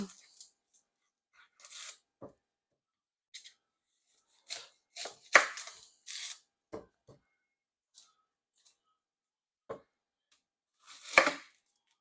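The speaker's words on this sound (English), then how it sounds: "But then I'm going to cut up 1 onion." An onion being cut up on a board for risotto: sparse, irregular knife chops and taps, some single and some in short clusters, close and crisp with quiet gaps between them.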